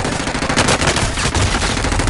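Dense, loud automatic gunfire from the Call of Duty shooter game fills the whole short stretch, close and continuous, with rapid overlapping shots and no speech.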